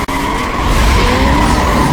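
A car skids through a drag race in the video game NFS Most Wanted, tires screeching loudly over a roaring engine after a brief sharp click at the start, sustained and close.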